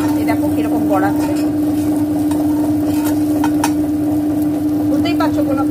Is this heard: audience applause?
no